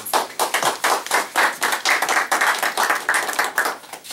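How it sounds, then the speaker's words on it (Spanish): An audience at a talk on Dominican independence claps hard, fast rhythmic hand claps packed close together, loud and near, with no voices over them. "Bueno, oye, aplaudan duro."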